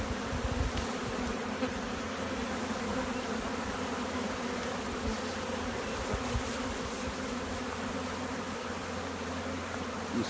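Dense, steady buzzing of many bees at an open hive being split to make a nucleus colony, continuous and close with no voices.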